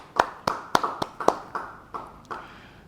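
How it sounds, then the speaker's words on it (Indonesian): Claps at a church Bible study, about nine separate sharp claps at an uneven, slowing pace, fairly faint and fading toward the end, with no voices over them. "Yang mau beri tepuk tangan buat dia."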